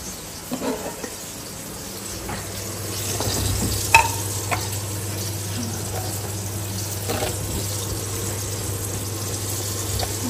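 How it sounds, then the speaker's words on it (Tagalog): Eggplant sautéing with ginger, onion and garlic in a pan, a steady sizzle with stirring scrapes and a low background hum, a clatter near the middle. "Igigisa-gisa lang natin dito sa, luya, sibuyas, tsaka itong, bawang."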